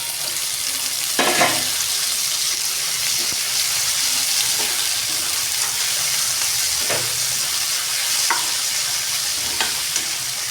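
Two onions and a tomato fry in a pan with a steady, close sizzle, broken by a few brief clatters of stirring.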